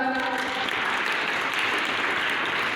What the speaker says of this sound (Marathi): वाजवा याच्याकडचं टाळ्या